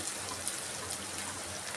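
Water from a running motor pump makes a continuous, even rushing hiss, close and steady throughout, with no other sounds.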